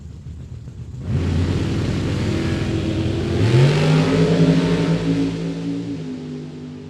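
A Camaro Roadster drag racing car launches at a drag strip, its engine bursting in loud and climbing through rising revs before easing slightly, heard near and alone.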